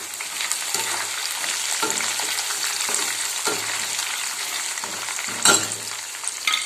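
Mustard and cumin seeds crackle in hot oil for churumuri, a close, steady sizzle broken by recurring louder stirring scrapes and occasional sharper pops.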